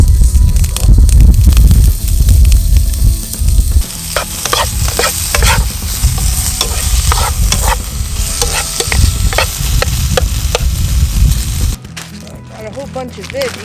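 Vegetables and broccoli sizzle and fry in a pan over a campfire in a snowy winter tarp camp, a loud close crackling sizzle with stirring scrapes and clatters, a voice talking over it throughout.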